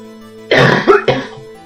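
A single throaty cough breaks out close up, a short harsh burst followed by a second, softer hack over a faint steady hum.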